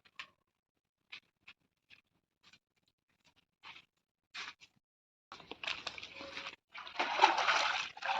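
Short wet splashes and patters come in scattered bursts, then build into steadier sloshing of water near the end, close by and moderately quiet, as agathi flowers are washed in water.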